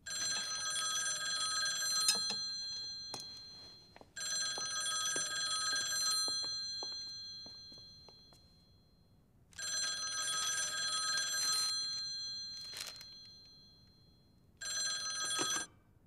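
A telephone bell rings in four long bursts of bright metallic trilling separated by quiet pauses, clear and fairly close in a room.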